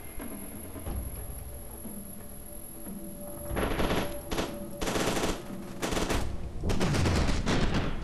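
Bursts of automatic gunfire in the shooter game F.E.A.R. 2: Project Origin, several rapid volleys of varying length over a low game ambience, with no voices.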